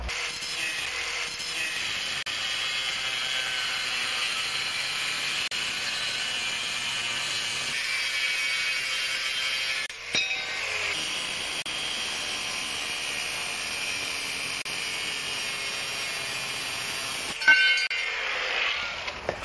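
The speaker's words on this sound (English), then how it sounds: "I'm going to trim the ends of the angle irons right now." Steady, loud grinding of steel angle-iron ends being trimmed on a homemade chainsaw-powered bike, a continuous harsh whine holding for most of the stretch with a short dip and a brief sharper burst near the end.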